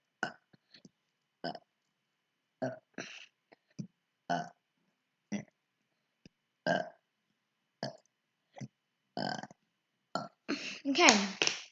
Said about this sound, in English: Now we've got the one and only fidget spinner burp